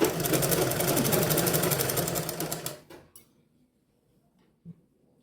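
A sewing machine stitches a blouse seam with a fast, even mechanical whir for nearly three seconds. It then stops, leaving near silence broken by one small click.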